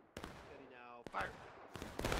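Musket shots crack from a line of Civil War infantry in War of Rights on the East Woods map, as several separate loud reports in quick succession with a voice heard faintly between them.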